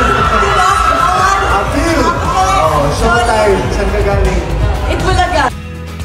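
Fans at a mall show scream and cheer as two performers head up to the stage to sing, a loud sustained mass of shrieks, whoops and crowd babble that drops off abruptly near the end.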